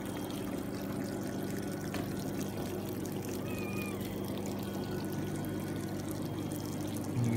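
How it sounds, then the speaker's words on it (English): Water trickles and drips down through hydroponic barley fodder trays with drilled holes, making a continuous quiet patter and wash that holds steady with no voices. "You can see it just drips from above."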